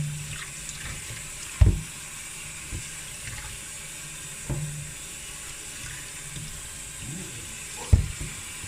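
Cold water runs steadily from a tap as basmati rice is rinsed in a strainer over a sink, with a few soft clunks and splashes.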